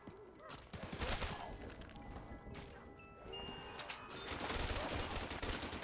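Rapid bursts of RPK machine gun fire in a Call of Duty zombies match, loud and continuous over crashing game effects, with a voice talking over the action.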